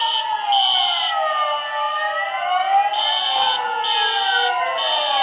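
Several fire alarms sound together, overlapping sweeping electronic wails and pulsing high beeps, loud and continuous with no talking.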